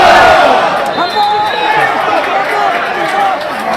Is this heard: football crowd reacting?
yes